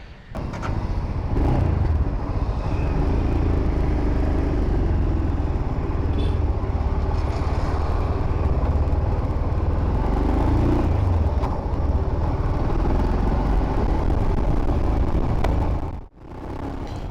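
Continuous low, throaty engine rumble of a Royal Enfield Scram 440 motorcycle, loud and steady throughout, dipping briefly near the end before resuming.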